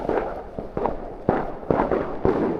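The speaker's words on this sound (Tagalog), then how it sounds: "grabe yung paputok!" Fireworks and firecrackers bursting at New Year's midnight, a rapid series of sharp close bangs and crackles over a continuous noisy rumble of distant explosions.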